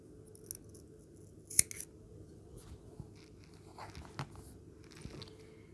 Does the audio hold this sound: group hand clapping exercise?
no